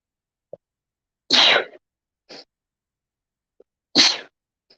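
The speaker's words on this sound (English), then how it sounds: "Oh, I feel a sneeze coming on." Two sharp sneezes from one person, each preceded by a brief inhale, spaced a few seconds apart in an otherwise quiet room.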